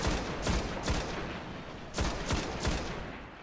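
Sniper rifle fire in the Destiny game: several loud, sharp shots in two clusters, each crack followed by a booming tail, with no talking.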